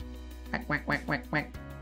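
A duck quacking in a quick series of five nasal calls, close and clear over a steady background hum.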